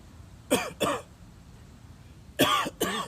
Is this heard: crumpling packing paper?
no